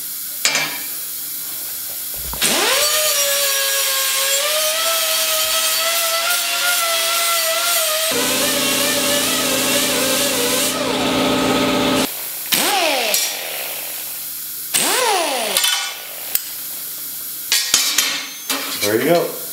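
Metal burrs ground off freshly cut steel for a blade sign hanger by a die grinder with a 60 grit pad: a close, sustained whine that wavers in pitch, then drops to a rougher rasp before breaking into short spin-up and spin-down bursts.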